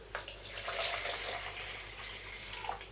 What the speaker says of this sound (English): pour out the liquid there so I can tell you precisely what we have